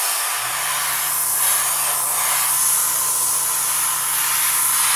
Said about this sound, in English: So then I have my airbrush. We want to put the color in it. And then we're just going to airbrush it.